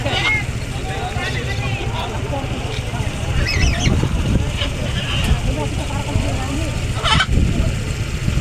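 Birds calling and honking intermittently nearby at the Malabon mega dike, where birds are released to fly, over a steady low background rumble, with people talking at times.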